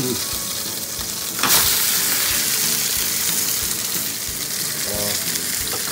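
Frozen fish, including mackerel and Spanish mackerel, fries in a pan with a loud, dense, continuous crackling sizzle and a brief hissing burst near the start, close up and without talking.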